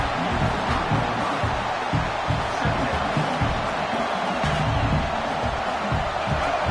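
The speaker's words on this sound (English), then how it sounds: "The roar of the crowd trying to fuel this defense to keep them pinned in their own end." A stadium crowd roars steadily at a Tigers football game, a loud, continuous wash of noise while a commentator talks over it.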